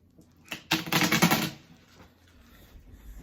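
A new deck of playing cards is shuffled close up in one quick riffle, a dense rapid flutter lasting about a second, followed by quiet handling.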